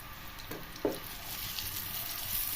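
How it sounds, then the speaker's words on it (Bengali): Pointed gourd (potol) pieces go into hot oil, a soft continuous sizzle with a sharp spit and crackle as a piece drops in near the start. "তেল গরম হয়ে গেলে এখন আমি একটা একটা করে পটলগুলো দিয়ে দেব।"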